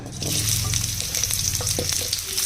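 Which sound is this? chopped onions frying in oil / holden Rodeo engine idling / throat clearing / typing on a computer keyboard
chopped onions frying in oil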